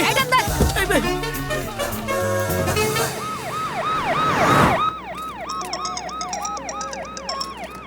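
An ambulance siren wails in rising and falling cycles, loud and close, with other siren tones and music-like clutter layered over it before the steady wail continues alone.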